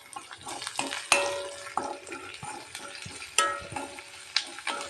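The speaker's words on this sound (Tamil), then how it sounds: "நல்லா வெங்காயம் வேகட்டும்." Onions fry in sesame oil with salt added, crackling softly while a utensil scrapes and stirs in irregular strokes. Several sharper knocks against the pan stand out, and no one speaks.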